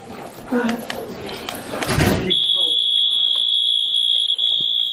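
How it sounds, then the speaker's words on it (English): After a moment of muffled movement and rustling, a door alarm starts, a shrill steady electronic tone that keeps sounding continuously at a high pitch. "Oh, and they set off the alarm on the door."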